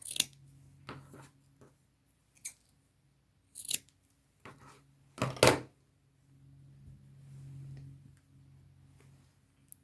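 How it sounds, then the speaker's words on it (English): Scissors trim faux fur fabric for a fringe vest, giving several separate crisp snips at irregular intervals with quiet pauses between and a soft rustle of fabric near the end. "I'll have to trim some of this off."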